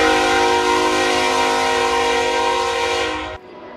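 A train rumbles past close by, its horn holding a long steady blast that cuts off abruptly near the end.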